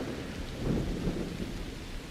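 Steady rain with low rolling thunder in the Assassin's Creed Shadows video game, a continuous dense wash of downpour with a swelling rumble near the middle, no voices.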